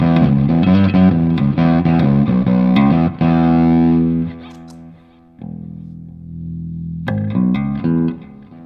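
An electric guitar runs through an EarthQuaker Devices Blumes distortion pedal set to mode 2, giving gritty, loud strummed chords that ring out and fade, followed by a lower sustained chord and a final strike, with no talk.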